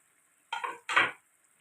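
Onion and peppers tumble into a home cooking pan for a small Egyptian-style liver and gizzard dish, giving two short bursts of rustling, clattering sizzle close by, with quiet before and after.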